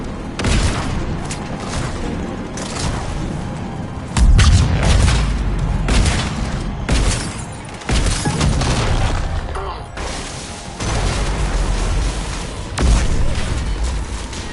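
Heavy cannons firing in a video game fill the scene with repeated deep, loud booms every second or two, layered over a rumbling battle din with a voice briefly heard.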